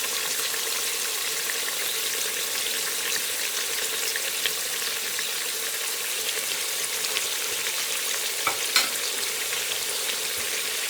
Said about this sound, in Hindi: और हमने अपने गोश्त को मीडियम पे हाई पे करके तो भूनना है 7 से 8 मिनट तक